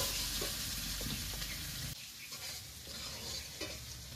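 Potatoes and green chillies sizzle in hot oil while a spatula stirs them in the pan. A steady close frying hiss runs throughout, with soft scraping strokes and a brief dip partway.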